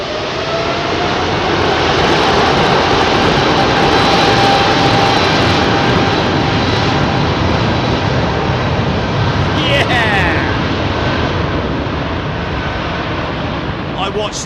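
Jet engines at London Heathrow spool up to a loud, steady roar that fills the scene and barely shifts from start to finish. Brief whine-like sweeps cut across near the middle.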